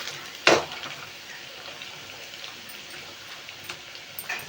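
Rice cutlets sizzle in hot oil, giving a steady crackling hiss after a sharp splash near the start as they go into the pan, with faint pops scattered throughout and no voices.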